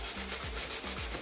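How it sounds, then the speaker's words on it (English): Steady rhythmic rubbing of a sanding block across the edges of découpage paper, back-and-forth strokes at an even pace, close and moderately quiet. "all I'm going to use is a sanding block just to kind of rub away"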